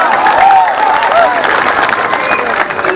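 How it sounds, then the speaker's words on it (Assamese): Audience applauding at a live singing show in Guwahati, a steady wash of clapping and crowd noise with a few voices rising over it. "হাত চাপৰিটা দিবনে"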